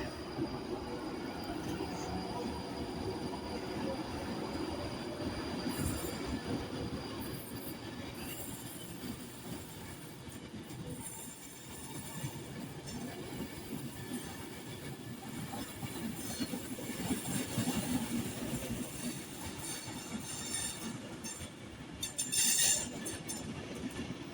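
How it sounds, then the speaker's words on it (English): A Pendolino class 390 electric train, unit 390-157, passes on the West Coast Main Line at Carlisle, running from Edinburgh Waverley to London Euston: a loud, sustained close rumble with wheel squeal and rattling, swelling near the end, no talk. "Passing now is the Pendolino 390-157 Advantage West Coast service to London Euston from Edinburgh Waverley."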